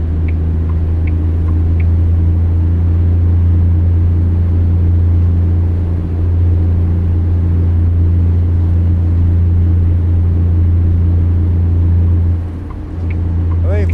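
A heavy truck engine in American Truck Simulator, a 350-horsepower rig, drones steadily and loudly, a constant low rumble that barely changes, with a brief dip near the end.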